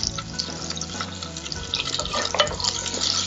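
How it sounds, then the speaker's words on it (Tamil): Green chillies and shallots sautéing in hot oil in a pan for a mango ginger pachadi, giving a steady close sizzle and crackle with scraping stirs, continuous throughout with no talking. "அதோட பச்சை மிளகாய் சேர்த்து வதக்கிட்டு இருக்காங்க"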